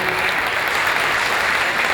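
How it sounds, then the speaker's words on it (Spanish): Dense, loud applause from a seated audience after a talk on soil, continuous and even for the whole two seconds, close and with no voices on top. "Fuerte el aplauso para el ingeniero Wenceslao Teferina,"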